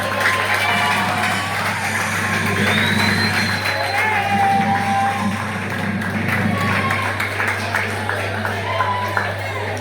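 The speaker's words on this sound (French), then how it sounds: "Vos applaudissements." An audience at a school cultural day event breaks into applause and cheering, with loud crowd noise and a speaking voice over a steady hum.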